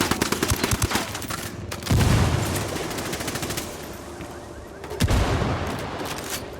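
In the tactical shooter Ghost Recon Wildlands, bursts of rapid gunfire rattle at the start. Then a heavy frag grenade blast booms, rumbles away and is followed by a second deep explosion, with no voices.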